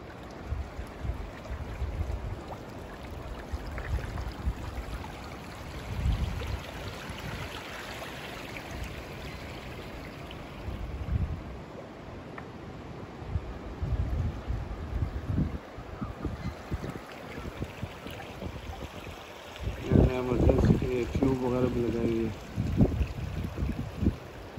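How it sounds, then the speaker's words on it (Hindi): Water from Niagara Falls flows downstream in a broad, steady rush with wind buffeting the microphone, heard from nearby beside the river, with a brief patch of voices toward the end. "वहाँ से नीचे पानी आ रहा है सारा।"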